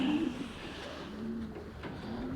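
Pigeons coo steadily in a breeding loft, a low continuous warbling murmur of several birds close by, with faint rustling and no talk.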